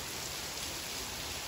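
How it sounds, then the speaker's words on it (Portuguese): Steady rain falls at Jurerê Internacional beach, a dense, even hiss of drops with no pauses and no voices. "Adoro dia de chuva na praia."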